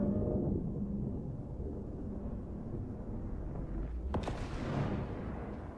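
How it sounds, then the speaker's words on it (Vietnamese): Sudden explosion-like blast in the survival game Raft, a sharp broadband burst partway through over a steady low windy rumble, with no talk. "Ở đây hình như vừa xảy ra một vụ nổ hay cái gì đó."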